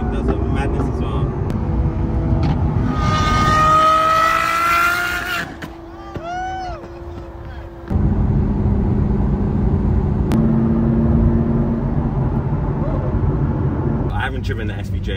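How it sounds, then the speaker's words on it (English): A sports car with a loud Gintani aftermarket exhaust and flame tune, on a Gumball 3000 convoy from Edinburgh to London, roars steadily through most of the clip, with a brief lull and talk heard over it. "The Gintani exhaust is so loud."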